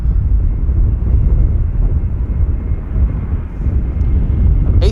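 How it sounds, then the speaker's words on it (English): An SAS Airbus A320neo arriving at Amsterdam Schiphol from Stockholm gives a steady low engine rumble, fairly loud and unbroken, mixed with some wind noise. "A320neo SAS arriving from Stockholm."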